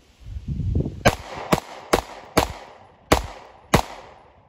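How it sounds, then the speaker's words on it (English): A Glock pistol with its factory slide fires six rounds outdoors on a range, sharp loud cracks spaced irregularly about half a second to a second apart, each with a short ringing decay. "We're going to go ahead and put some rounds down range."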